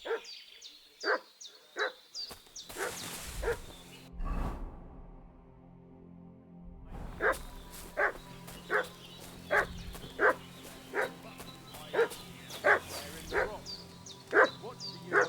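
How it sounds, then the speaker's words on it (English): A dog in the video game Kingdom Come: Deliverance 2 barking steadily in a regular rhythm, a brief lull midway, then resuming with loud, evenly spaced barks over a low ambient hum. "What's that dog making such a fuss about?"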